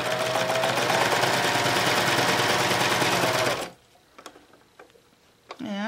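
Sewing machine with a cording foot stitching straight across for a serger box bag, a loud steady whir for nearly four seconds, then stopping and leaving quiet handling noises.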